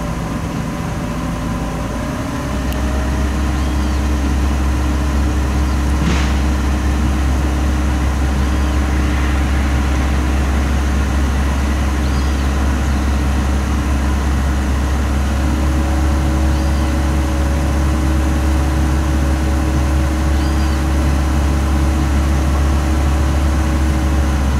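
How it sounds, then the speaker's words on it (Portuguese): A car engine is revved to warm up the heater after a clutch and heater radiator replacement. Its steady hum rises to a higher, louder drone after a couple of seconds and holds evenly for a long stretch. "Vamos acelerar o carro para esquentar mais."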